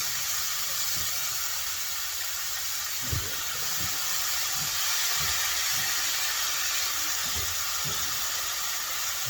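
Garlic sausage meatballs tossed in a hot pan give off a steady, fairly quiet sizzling hiss, with a few soft low knocks as they shift, and no one talking.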